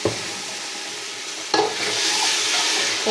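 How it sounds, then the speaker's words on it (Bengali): Rice and chana dal fry in hot oil for biryani, giving a loud, close, continuous sizzle that surges as they are stirred around the pan. "চাল আর বুটের ডাল একসাথে ধুয়ে এভাবে তেলে দিয়ে এখন এগুলো আমি ভেজে নিচ্ছি"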